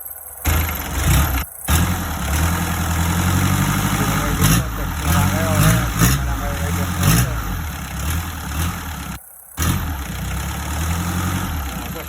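An SD23 diesel engine idles loudly and steadily nearby, a constant rough rumble with a few brief revs, while someone talks over it.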